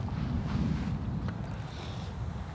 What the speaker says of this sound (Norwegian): Det blåser litt